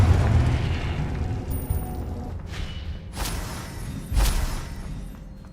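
A fiery Confringo spell blast in Hogwarts Legacy: a couple of sharp, booming bursts with crackling tails, landing a second apart over a low ambient rumble.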